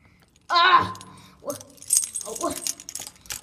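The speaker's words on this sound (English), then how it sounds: "Okay, I got the keys though." Keys jangle up close in a short loud burst while a small dog whimpers and yelps afterwards.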